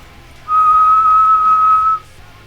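A low whistle imitated by a player's voice, one clear steady sustained note lasting about a second and a half, close and loud against quiet room background.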